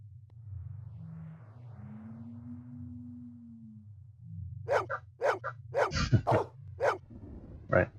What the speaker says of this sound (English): Yeah, that was my dog.